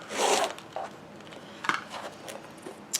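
A rotary cutter slices excess quilting fabric along a Creative Grids Log Cabin Trim Tool ruler for a Courthouse Step block, a soft close scraping rush followed by a few quieter rasping strokes.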